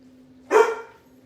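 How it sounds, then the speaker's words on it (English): A dog gives a single sharp bark, fairly close and moderate in volume, against a faint steady hum in an otherwise quiet kitchen. "You can have your dog Gator barking in the background because he likes the chicken"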